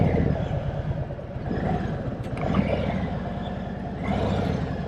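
A Harley-Davidson Tri Glide Ultra touring trike rolls slowly in first gear with no throttle, its engine holding a steady, close, low rumbling idle-like throb for the whole stretch, with no talk.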